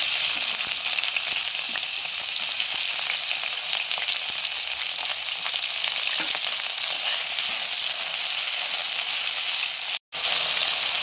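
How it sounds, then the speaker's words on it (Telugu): Nalleru (veldt grape) stalks frying in a pan give off a dense, steady sizzle that holds at an even level throughout, with a brief cut near the end and no talking. "నల్లేరు కాడలు వేయించేసుకున్నాం."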